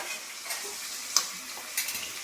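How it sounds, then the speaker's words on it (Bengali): Ginger and garlic fry with onions in a pan, giving a soft, low sizzle. A few faint scrapes and clicks of stirring come through the quiet hiss. "এবারে আমি আদা রসুন দিয়ে দেবো"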